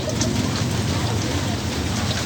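Heavy rain pours steadily in a dense, close hiss around a street food stall, with faint voices underneath.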